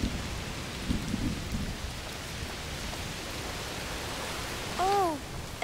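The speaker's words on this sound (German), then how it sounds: "Oh, es regnet ganz schön doll." Steady, heavy rain falls in A Plague Tale: Requiem, a dense continuous hiss with soft low rumbles, and a brief tonal call rises over it near the end.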